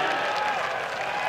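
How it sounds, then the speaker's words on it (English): Crowd at the 2022 Disc Golf World Championships applauding and cheering a shot, a steady dense burst of clapping throughout. "The crowd reacted very positively."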